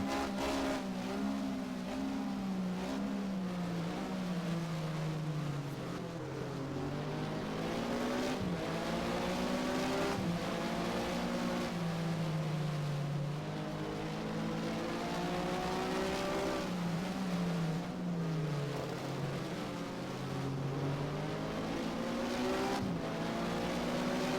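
Porsche SuperCup race car in the Race07 video game at Estoril, engine held at full power through a curve, a loud continuous rising and falling howl across gear shifts with faint tire squeal, no talk.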